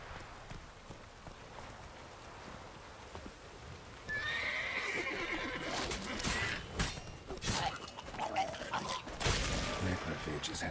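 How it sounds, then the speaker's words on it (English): Horse in The Witcher 3 game neighing loudly amid clopping hooves, starting quietly then rising into clustered hoofbeats and whinnies, with rain-like ambient noise behind. "Whoa there, Roach"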